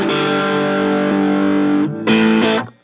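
Heavily distorted electric guitar with echo and room ambience: one long sustained chord for nearly two seconds, a brief gap, then a short loud restrike that fades out.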